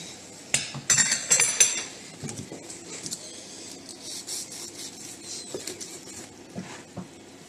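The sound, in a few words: knife cutting a cordon bleu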